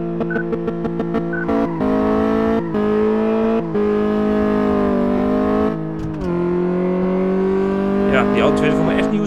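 Engine of a car in Car Mechanic Simulator 2014 on the test track, accelerating with a steady harmonic drone that rises and shifts pitch through gear changes, with a brief high whine near the end.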